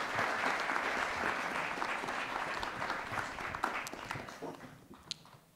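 An audience at the FICUNAM 2023 film festival conference applauds in a steady, dense wash of clapping that holds for several seconds, then thins and fades toward the end.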